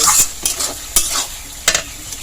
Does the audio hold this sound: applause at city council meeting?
no